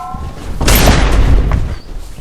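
A loud, sharp gunshot cracks and booms, its roar lingering for a couple of seconds with noisy rumble, nearby and unaccompanied by speech.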